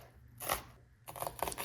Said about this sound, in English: I have half of a yellow onion, and we're just going to finely dice this